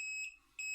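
An electronic buzzer wired into a breadboard circuit gives two sharp, high-pitched beeps in quick succession with a short gap between them. The beeps are close and clear, with no talk.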